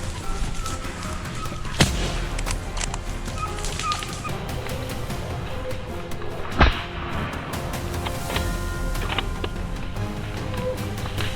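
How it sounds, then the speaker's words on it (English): Two loud, sharp gunshots ring out several seconds apart during a wild boar hunt in a forest, each trailing off in echo, with birds calling faintly in the background. "Almost simultaneously, other gunshots echoed through the forest, signaling that the remaining boars had been dealt with."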